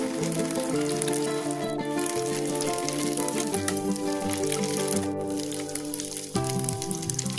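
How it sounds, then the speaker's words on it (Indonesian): Egg-coated sate aci skewers fry in hot oil with a steady, crackling sizzle that runs underneath prominent background music throughout. "Lalu goreng di minyak panas."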